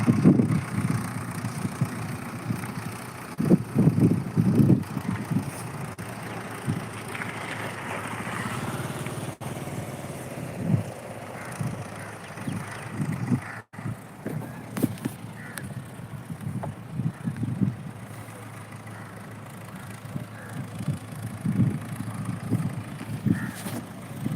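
A tractor engine hauling a fishing boat ashore on a beach rumbles continuously at mid pitch, rising and falling in effort, with occasional clanks and bursts over a steady outdoor background.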